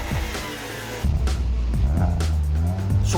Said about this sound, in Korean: 엔진 소리만 들어도 심장이 두근거리네요.